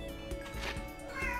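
A house cat meows several times at close range indoors, short plaintive calls with a faint background hum.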